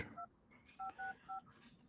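Telephone keypad dialing tones while placing a call: a handful of short, clean two-tone beeps in an uneven rhythm, close and fairly quiet over a faint room background.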